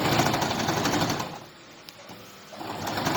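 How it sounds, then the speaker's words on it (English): A sewing machine stitches tulle ruffles in a steady loud whirring run, pausing briefly in the middle before starting up again, close and alone without talking. "And I'll now start sewing."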